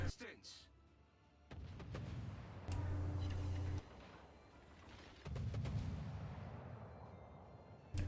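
Heavy warship guns fire in the World of Warships naval battle game, with deep booming bursts rolling into sustained rumbling volleys that swell and fade over several seconds.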